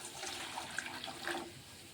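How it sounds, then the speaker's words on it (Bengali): Hot water pours into a bowl in a brief, faint splashing trickle lasting under two seconds. No voices are heard. "এই যে পানিটা আমি গরম করতে দিয়েছিলাম, গরম হয়ে গেছে। আমি যে বাটিতে ঢেলে দিলাম।"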